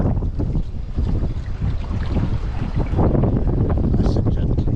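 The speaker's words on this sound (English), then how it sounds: "We'll watch this narrowboat coming across the aqueduct." A narrowboat moving slowly across an aqueduct, its low engine rumble mixed with strong gusting wind buffeting the microphone outdoors.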